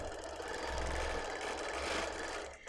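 A quilting machine stitching with its stitch regulator on, a steady buzzing mechanical whir running continuously and close, with no talk.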